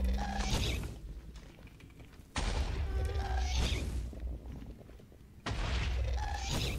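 Three loud, sudden explosive blasts sound at roughly three-second intervals, each trailing off into a rumbling decay, as a ghast shoots fireballs in the Minecraft Nether.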